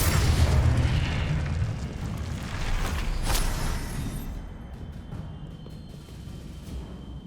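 A Confringo fire spell blast in the video game Hogwarts Legacy, a loud booming explosion at the start that rolls into a long rumbling decay, with a second fainter burst partway through.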